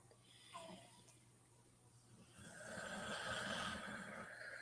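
A person snores deeply and slowly in a quiet room, with long, soft, rasping breaths that swell toward the end.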